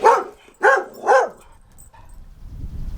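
A dog gives three loud, close barks in quick succession as an Ariel Atom engine is started, and a low rumble grows beneath them afterward.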